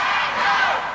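A wrestling arena crowd cheers and roars for a classic rasslin' bout, a brief loud swell of shouting voices.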